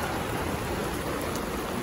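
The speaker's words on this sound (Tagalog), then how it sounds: "Lakas na ng ulan, guys." Heavy rain pouring steadily outdoors, a dense, even hiss of water with no break or talk over it.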